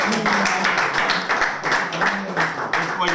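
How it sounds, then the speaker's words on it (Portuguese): An audience at a Portuguese-language rap battle applauds and claps after a round, a dense, fluctuating burst of clapping under a host's voice. "Aplausos, pessoal."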